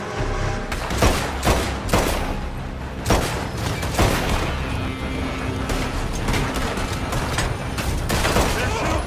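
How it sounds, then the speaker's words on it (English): Rapid bursts of gunfire in Red Dead Redemption 2, a dense fusillade of loud shots and booms firing in irregular volleys throughout, with shouting voices mixed in. "They're shooting from that building!"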